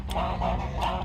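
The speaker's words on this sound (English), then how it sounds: "as soon as the camera goes on, the geese will kick off" Several geese honk in repeated short calls, loud and close, in an outdoor setting where air rifle pellets are being loaded.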